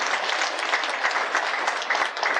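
An audience at a yoga session applauds for children, with loud dense clapping and sharp individual claps standing out across the whole stretch.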